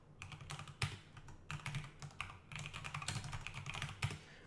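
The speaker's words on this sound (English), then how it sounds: "I really hate how this keyboard sounds." Computer keyboard typing heard up close and alone, rapid clattering keystrokes in uneven bursts with brief pauses between runs.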